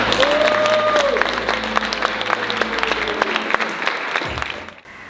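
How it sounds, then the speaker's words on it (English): A school audience at Yirara College breaks into big, sustained applause for a guest, a dense wash of clapping with a few cheering voices rising early on before it tapers off. "Can we please give Isaiah Firebrace a big round of applause?"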